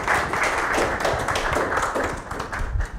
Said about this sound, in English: Let's have a round of applause for Podavita.